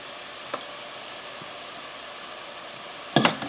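Struffoli dough pieces fry in a deep pot of oil, a steady close hiss of bubbling and foaming with a small knock early and a louder clatter near the end.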